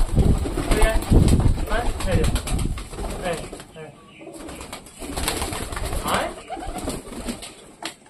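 Pigeons coo amid a flurry of flapping wings, with a person talking over the busy, continuous bird noise throughout.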